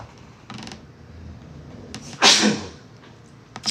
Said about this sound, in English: excuse me, I got to sneeze.